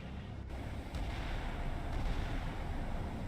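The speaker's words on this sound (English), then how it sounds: "Big explosion off in the distance." A far-off explosion in a Cold War naval combat game set during the 1962 Cuban Missile Crisis, a low, steady rumble that rolls on quietly without a sharp attack.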